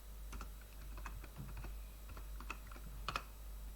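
Keystrokes on a computer keyboard as a Python name is entered at a terminal, a scatter of light clicks in small irregular bursts, close and fairly quiet, with no talking.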